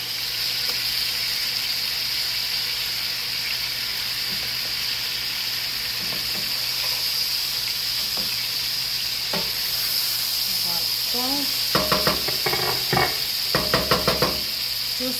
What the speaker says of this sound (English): I'm going to flip these burgers over.